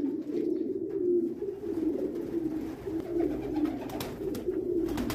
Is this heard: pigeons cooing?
yes